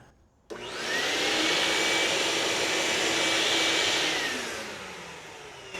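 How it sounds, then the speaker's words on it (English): An 8-gallon shop vac powered by a FOSSiBOT F2400 power station switches on abruptly. It roars steadily with a rising whine, then winds down near the end. "So let's start with the shop vac, see if this F2400 can actually handle that"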